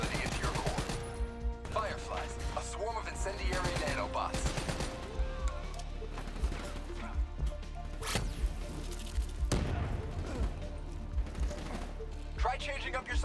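Rapid gunfire from the video game Call of Duty Black Ops 3, sharp repeated shots and bursts over a busy combat soundscape with a steady low rumble, punctuated by louder individual cracks.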